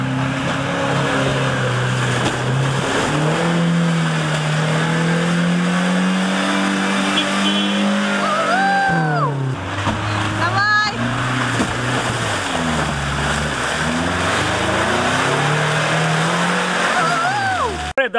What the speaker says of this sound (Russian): Дастер проехал, Дастер смог